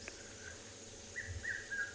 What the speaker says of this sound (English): There's a red-chested cuckoo calling in the background.